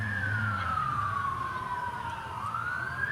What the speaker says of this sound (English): This is the one time I don't mind hearing the siren because I'm not in a car.